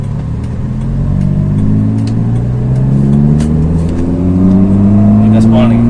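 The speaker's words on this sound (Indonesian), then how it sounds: "Ini gaspol nih, gigi 2." A Honda Jazz with a manual gearbox and an 88 PS engine accelerates hard in second gear, its engine note rising steadily inside the cabin while someone talks over it.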